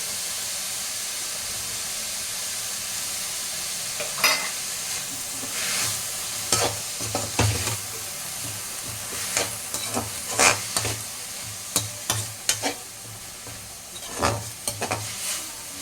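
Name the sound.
frying and stirring ginger garlic paste in a pan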